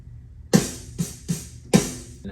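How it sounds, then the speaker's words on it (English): Four sharp, punchy snare hits from a standard snare drum sample, spaced roughly half a second apart and played alone with no voices, each with a quick bright crack and short decay. "Just a regular snare."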